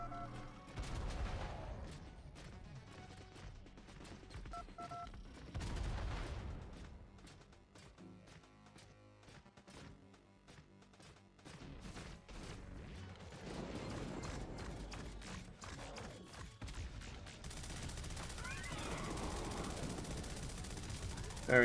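Rapid bursts of gunfire from a phone gun in the Hellmut video game, repeated volleys rising and falling among game effects and music over about twenty seconds, with a player's voice talking over parts of it.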